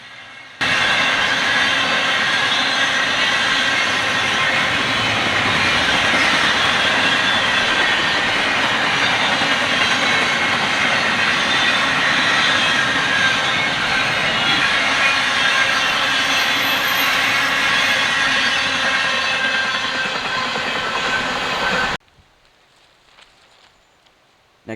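The CSX I-007 freight train with an SD70 Mac trailing roars past close by, a loud, sustained rumble and steady wheel noise that holds for about twenty seconds before cutting off abruptly.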